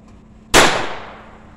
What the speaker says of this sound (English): I'm going to fire one of my painful bullets.